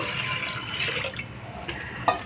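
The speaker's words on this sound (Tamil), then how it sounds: "இப்போ கொஞ்சம் தண்ணி ஊற்றிக்கலாம்" Water is poured from a vessel into a pot of soaked toor dal, a steady splashing, trickling stream close by with a brief louder splash near the end, heard alone with no talking.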